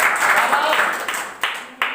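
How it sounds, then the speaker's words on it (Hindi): Children in a Class 4 maths classroom clap together, a rough burst of applause that thins out with a couple of sharper claps near the end, with voices mixed in. "ताली बजा दीजिए"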